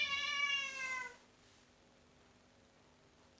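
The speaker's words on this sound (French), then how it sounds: "C'est Logan, mon chat, qui décide de faire des siennes." A pet cat named Logan lets out a single loud, drawn-out meow up close, then stops, leaving quiet room tone with a faint steady hum.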